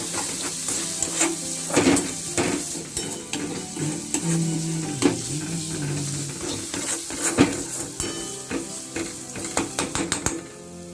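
Cauliflower leaves sizzle in a pan as Kashmiri chilli powder is worked in, steady frying hiss with frequent clattering spoon scrapes and knocks against the pan.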